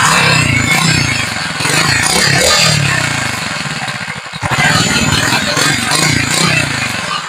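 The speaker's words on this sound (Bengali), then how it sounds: "আপনারা ইঞ্জিনের সাউন্ডটা শুনুন। গাড়িটা স্টার্ট দাও ছোট ভাই একটু।" A modified Bullet motorcycle engine fires up and runs, a loud close rough clattering drone with a brief dip midway, while people talk nearby.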